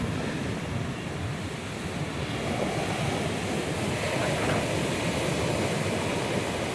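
Sea waves surge and break steadily at Ullal beach near Mangalore, a continuous broad roar of surf with wind noise and no voices.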